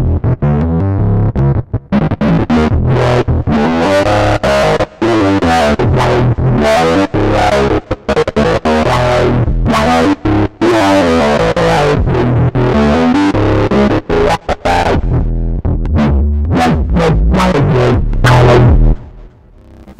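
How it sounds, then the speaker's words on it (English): A gritty, heavily distorted UNO Synth Pro analog synthesizer, its drive circuit pushed toward screaming distortion, plays a busy, rhythmic line, loud and continuous, with the tone shifting between saturated and harsh. "an enhanced analog drive circuit that can go from subtle saturation to screaming distortion."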